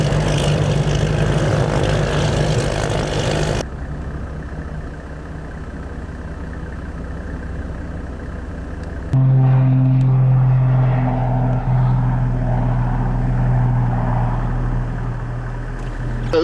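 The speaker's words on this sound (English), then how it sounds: "That's the plane carrying Mark Bishop." A propeller plane carrying Senator Mark Bishop drones loudly with a steady engine hum and throbbing tone, the sound changing abruptly midway as it continues close by.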